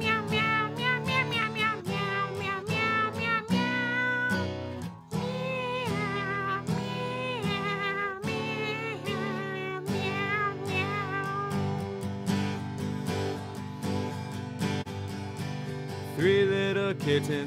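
A voice sings imitation kitten meows in a nursery song about three little kittens, a string of drawn-out mewing notes over melodic musical accompaniment.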